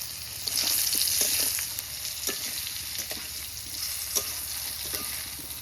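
Potatoes and slit green chilies hit hot oil tempered with nigella seeds in a pan for a light fish curry, giving a steady close sizzle with faint clicks of stirring throughout.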